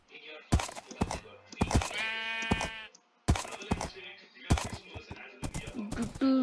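Sheep bleat in Minecraft, a pink sheep giving short wavering cries among sharp game thuds and clicks, close and moderately loud with brief silent gaps between bursts.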